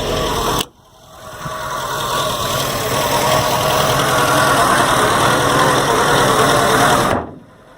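A Dacia car engine runs close by with a steady idle hum and light rattle, holding for several seconds between brief cut-offs at the start and end.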